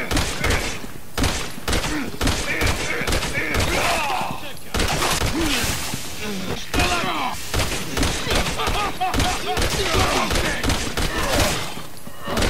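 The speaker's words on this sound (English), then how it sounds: "between 10 and 12 shots from the Ammo Box 50 to take down a standard Joavo" Ammo Box 50 machine gun in Resident Evil 6 fires in dense rapid bursts, sharp repeated cracks in quick succession broken by short pauses, loud and close, with someone talking over the gunfire.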